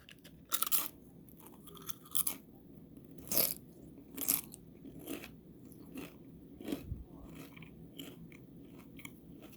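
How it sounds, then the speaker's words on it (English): Close, crisp bites and crunching of fried hard salami eaten with cheesy beef noodles, an irregular series of loud crunches separated by quieter chewing, with no talking. "We're gonna eat this yummy beef cheesy noodles along with some yummy fried hard salami."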